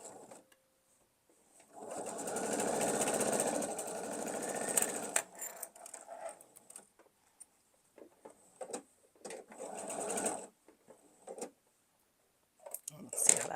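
A sewing machine stitching a triangle on a quilt block runs in a steady close whir for a few seconds, then in short slow bursts with pauses and small clicks between them.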